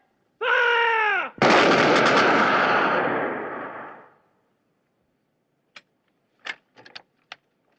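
A massed rifle volley in the 1964 war film Zulu starts with a shouted command, then a sharp, loud burst of gunfire that rolls off over a few seconds, followed by a few faint scattered clicks and clinks.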